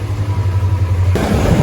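A Kawasaki MT25 motorcycle engine idles steadily with a low hum during a test drive, then abruptly swells into a louder, rougher revving roar near the end.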